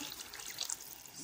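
Broth is poured over freekeh and steak meat in a pot, a brief, soft splashing trickle of liquid heard up close on its own.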